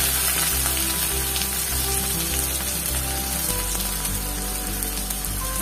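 Ginger, garlic and onion with cumin frying in hot oil in a pan, giving a steady close sizzle and crackle throughout with no talking.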